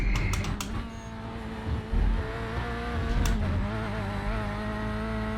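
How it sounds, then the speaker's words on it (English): Corvette C8.R GTE race car on track, its engine a steady, loud, dense drone with layered harmonics that rises and dips slightly as it drives, heard close with no talking. "It has some real depth into the sound of this car."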